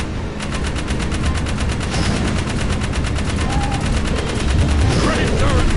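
Rapid, continuous turret machine gun fire from Jak 3, loud and evenly pulsing for several seconds, with some voice underneath.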